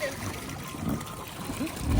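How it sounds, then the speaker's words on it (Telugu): A child swimming in a small pool set up on a home terrace, with soft splashing and trickling water under nearby talk. "ఇప్పుడు మా జాను ఈత కొడుతుంది."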